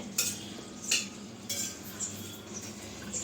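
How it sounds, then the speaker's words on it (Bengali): A spoon scraping and stirring masala chicken curry cooked without added water in a pot, several distinct metallic scrapes at irregular intervals over a low simmering background, close and fairly quiet. "আমি চিকেনটা এবার একটু নাড়া দিয়ে দিই, নইলে নিচে লেগে যাবে।"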